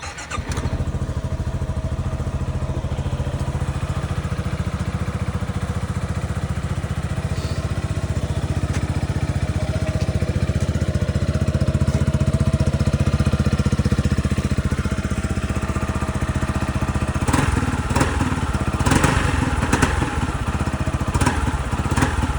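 A 2025 Yamaha XMAX 300 scooter engine runs close by with a steady, throaty hum, then blips into several sharp revs near the end, with no talking.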